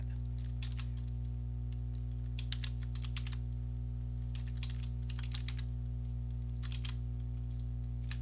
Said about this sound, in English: I keep typing the word Windows wrong